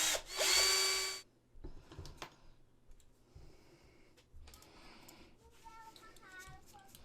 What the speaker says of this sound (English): that's causing the drill bit to lodge itself stuck in the resin.